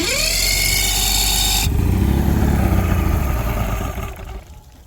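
An old outboard boat motor cranks with a rising whine, then catches and runs with a loud, rough, throbbing engine roar close by before it quietens toward the end.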